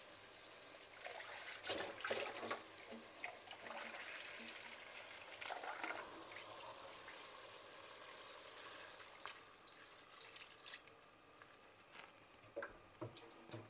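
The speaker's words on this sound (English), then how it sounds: "and we're going to add a little bit of water." Water trickles into a cooking pot of simmering Kenyan soup of onion, tomato and garlic, a soft, steady pour heard faintly and close, with no talking.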